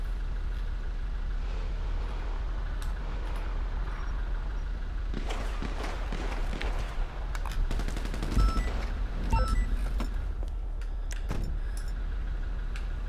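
Scattered gunshots in FiveM, a GTA V roleplay server, come as sharp cracks in small clusters over a steady rumble of traffic and city ambience. Some are near and some are farther off.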